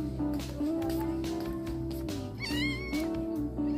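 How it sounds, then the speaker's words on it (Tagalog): A cat meows close by, a rising wavering cry standing out over a steady background hum and faint household noise. "Ito na yung pusa."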